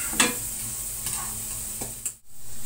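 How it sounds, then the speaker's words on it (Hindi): A spoon stirs spices frying in oil in a pan for a bitter gourd curry, with a soft continuous sizzle broken by a few scraping clinks of the spoon. "थोड़ा चम्मच चलाएं, थोड़ा सा भुन जाए।"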